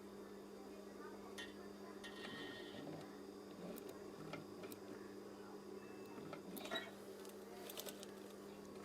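Stacked wave curtain fabric being machine-sewn, with a steady low mechanical hum and faint ticking stitch patter running throughout, quiet and close, with a few small clicks and no speech.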